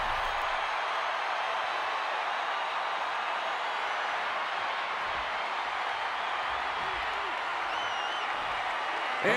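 A loud wrestling crowd in the video game WWE 2K20 roars as a dense, steady wall of noise through the whole stretch, with no breaks or swells.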